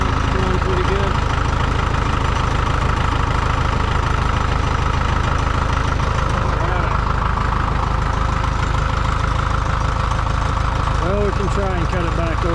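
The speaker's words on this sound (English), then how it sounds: "Let's see how this is running. It's going pretty good." A Farmall MD tractor with full three-point hitch and PTO runs steadily nearby, a loud low throbbing engine note with a rapid rhythmic knock, while a person talks over it.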